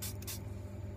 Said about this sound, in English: I just mix it up and spray it onto a cotton pad.